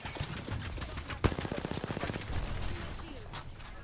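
Video game gunfire from enemy players shooting at the player near a rock and wall, a quick rattling burst of rapid shots that is moderately loud and close, with a voice talking around it.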